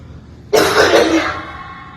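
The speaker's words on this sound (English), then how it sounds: "Dude, you're gonna cough all night?" A single burst of coughing or throat clearing starts abruptly, loud and close, then trails off over about a second, with no talking.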